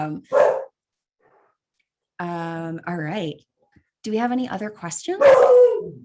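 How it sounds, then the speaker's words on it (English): A pet dog barks and yips several times in a home during an online talk, the sharp barks coming in short bursts that overlap with a voice speaking. "that's my dog"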